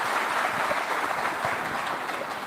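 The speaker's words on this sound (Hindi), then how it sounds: "लोग ताली बजा रहे हैं आप थोड़ी बजी है" Audience applause at a live on-stage interview event, steady dense clapping heard from a distance throughout, with no voices over it.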